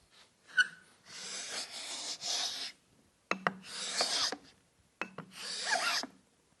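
A Stanley No. 12 scraper is pushed across a piece of poplar in three rasping strokes of one to two seconds each, with short pauses and light knocks between them, close up.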